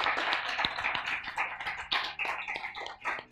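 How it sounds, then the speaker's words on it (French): Audience applause for the guests at the close of a French student show, a lively burst of uneven individual claps and taps, close and fairly loud. "on peut les applaudir une nouvelle fois."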